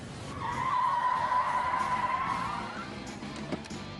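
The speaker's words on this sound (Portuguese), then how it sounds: "Quero que os pneus traseiros freiem primeiro, e foi isso que aconteceu." An Oldsmobile's tires skid under hard braking, a loud sustained squeal lasting a few seconds before tapering off, followed by a brief thump and road noise.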